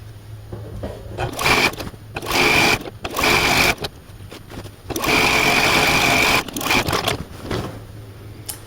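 A sewing machine stitches the outer border of a quilt in loud, close bursts of rapid needle chatter, starting and stopping several times with quiet pauses between runs.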